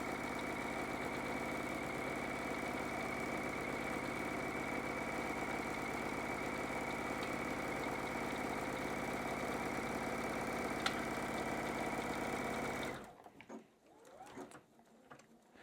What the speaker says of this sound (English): lower your presser foot and sew from the bottom corner up to the top of the bag